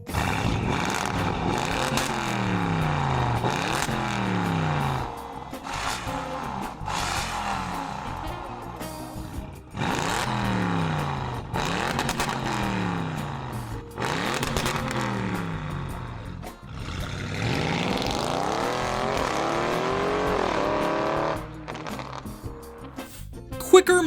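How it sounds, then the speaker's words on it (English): A sports car with an enhanced engine sound, repeated revving sweeps that rise and fall several times with short gaps between them, loud and close, ending on a brief sharp burst. "Some vehicles, especially sports cars, allow the owners to enhance the sound of the engine."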